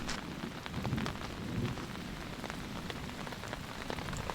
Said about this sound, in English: It's raining, folks. It just started. Right now it's really light